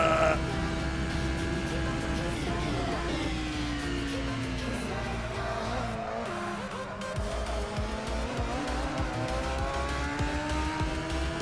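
Renault Clio race car in a racing video game, its engine droning loud and steady with rising and falling revs through corners, a brief dip mid-run before climbing again.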